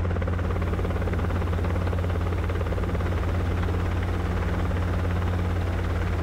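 Helicopter in a low hover during autorotation flight training in a light crosswind, its steady rotor thump and engine drone loud, close and unbroken throughout.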